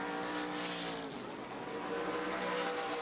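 ARCA Menards Series West race cars speeding around an oval racetrack, a dense continuous roar of engines with passing cars and some tire noise, loud and sustained without commentary.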